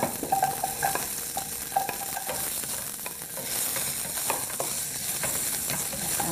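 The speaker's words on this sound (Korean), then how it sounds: "단단한 채소부터 넣어서 볶겠습니다." Hard vegetables such as radish and onion stir-fry in oil with garlic in a pan for minestrone soup, giving a steady close sizzle under intermittent scraping and clinking of a spatula, with no talking.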